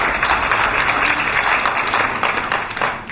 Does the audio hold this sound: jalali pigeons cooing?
no